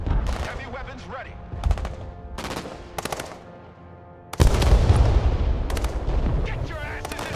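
Heavy weapons fire in the Broken Arrow military game, a series of sharp, loud booming bursts at irregular intervals over a rumbling battlefield backdrop, with rising intensity in the second half.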